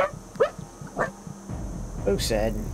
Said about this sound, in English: That was my dog going a little bit crazy when every time there's a door that goes off.